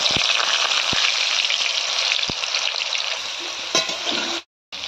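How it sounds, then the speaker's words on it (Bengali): Boiled jackfruit pieces frying in oil in a wok, giving a loud, continuous close sizzle with a few sharp clicks of stirring before a brief cut near the end. "কড়াইতে তেল দিয়ে এঁচড়গুলো দিয়ে দিয়েছি"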